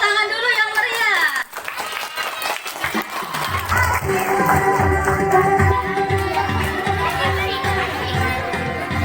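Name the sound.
applause for the class 3 performers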